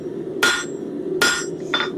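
A blacksmith's hammer strikes hot metal on an anvil three times, with the second blow ringing loudest. The hits are sharp and spaced out over a steady low background hum.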